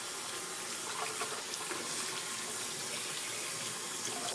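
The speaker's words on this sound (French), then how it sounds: "de bien rincer le blaireau, toujours à l'eau tiède" Lukewarm tap water runs steadily into a sink while a shaving brush is rinsed, a soft, even hiss of flowing water throughout with a small knock at the very end.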